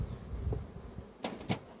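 Carniolan honeybees hum faintly and steadily at an open hive in an apiary, with a couple of brief louder rustles or knocks near the end.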